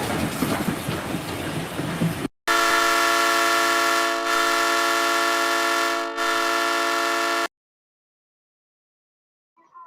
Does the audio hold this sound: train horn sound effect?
yes